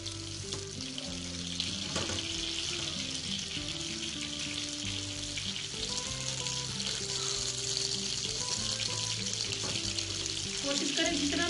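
Chapli kebabs frying in oil in a pan, a steady broadband sizzle running continuously throughout, close and fairly loud, with faint clinks and background music-like tones underneath.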